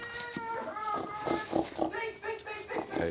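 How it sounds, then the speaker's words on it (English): Pig oinking in a radio-drama scene, a run of short grunts and snorts repeating across the whole stretch at close range, with voices mixed in among the animal noises. "Look, a porker. There's our food."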